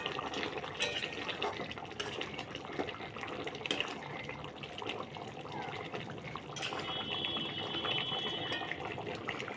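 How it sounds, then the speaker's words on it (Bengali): A pot of potato curry gravy bubbles at a boil nearby, a continuous soft burbling and hissing simmer that holds steady throughout with no voices. "দেখুন ঝোলটা ফুটে গেছে"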